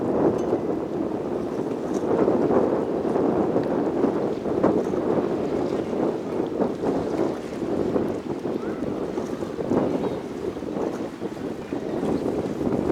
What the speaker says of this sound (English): we have the Canadian Coast Guard towing in a little inflatable boat